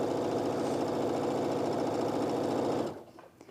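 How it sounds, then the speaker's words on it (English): A sewing machine speed-pieces log cabin quilt strips with a fast, steady mechanical whir for about three seconds, then stops, leaving faint handling sounds. "So we'll stitch."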